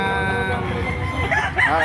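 Rooster crowing at a Saturday chicken market in Lipa City, Batangas, one loud close crow lasting a couple of seconds, with faint voices in the background.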